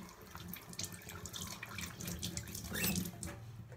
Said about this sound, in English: First step, wet your hands with clean water.